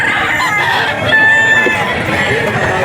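Roosters crow loudly and close by, the calls long and overlapping above a constant din of other fowl at a rooster farm, with no clear speech.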